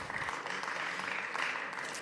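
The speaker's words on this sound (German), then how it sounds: "Ja, da kann man ruhig mal klatschen." Applause in a session of the Berlin state parliament, a steady, dense clapping from the chamber that holds evenly for about two seconds with no voices over it.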